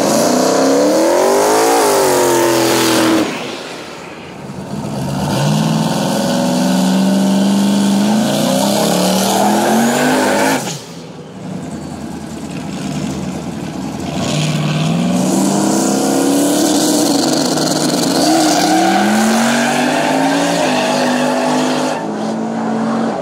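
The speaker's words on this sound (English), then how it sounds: "Tangerine Dream here in the left lane with that LS Power Turbo Fox body. Going up against that blue Turbo Fox." Turbocharged Fox body drag cars, one with an LS engine, launching and screaming down a no-prep strip at St Thomas Dragway, with loud roaring engine passes rising in pitch and a brief gap between runs.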